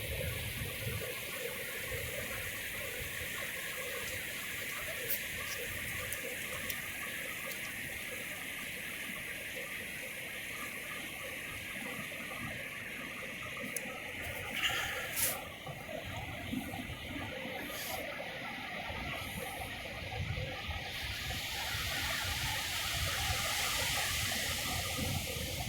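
Ocean waves breaking at Rest Bay beach, a steady distant wash of surf rolling in with a continuous hiss and occasional slightly louder swells, heard from shore.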